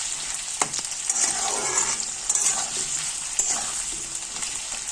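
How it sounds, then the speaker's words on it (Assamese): Potatoes frying in a pan crackle in a steady, bright sizzle with occasional louder pops and stirring scrapes, close and continuous with no talking. "আলুখিনি অকণমান ভাজি ল'ম আমি।"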